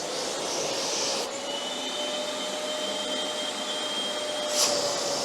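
Stihl SE33 wet/dry vacuum cleaner running steadily with a loud whooshing motor whine and a faint high tonal hum, a brief intake hiss change near the start and a short suction surge near the end.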